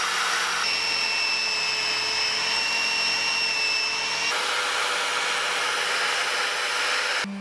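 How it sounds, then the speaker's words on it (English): A wire brush scrubs rust off the metal body of a Mercedes 508, giving a steady, loud, continuous abrasive rasp that shifts in tone partway through and carries on with no talking. "here I am removing the rust with the wire brush."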